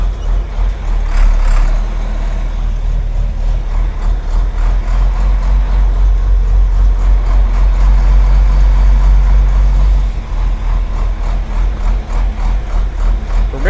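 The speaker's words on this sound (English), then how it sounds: "For being a John Deere, it does sound good when it idles." A John Deere 4440 tractor engine idles steadily at close range, giving a continuous low rumble. Near the end the engine note shifts briefly, and there is no talking.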